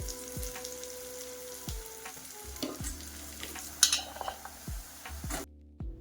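Onion, tomato, garlic, cumin, mustard seed, turmeric and chilli powder fry in a pan, with a steady sizzle broken by repeated scrapes and clinks of a spoon stirring against the metal, close up and without talk.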